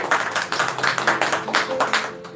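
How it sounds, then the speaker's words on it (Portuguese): Brief clapping from a church congregation during a service, a quick uneven patter of claps that fades toward the end, with no voices heard. "Assim quem crê, aplauda ao Senhor e diga graças a Deus."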